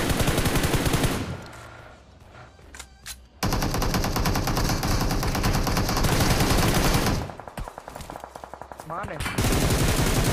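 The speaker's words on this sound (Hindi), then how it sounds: "उधर साइड से फायरिंग का आवाज आ रहा था" Bursts of rapid automatic gunfire from the battle royale game PUBG crackle loudly through most of the stretch, with a brief lull between volleys and a short spoken word mixed in.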